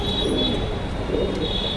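Pigeons coo softly inside an old loft, low murmuring calls under a faint steady electrical hum.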